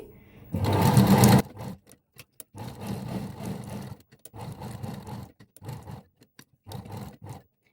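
Sewing machine stitching the back neck of a blouse in a love-symbol pattern with piping cloth: one loud fast run, then a series of shorter stop-start bursts separated by quiet pauses.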